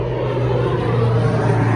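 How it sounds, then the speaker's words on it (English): An airplane passing overhead, heard as a steady low engine drone that stays even in level for the whole stretch, with no talking. "Excuse the airplane."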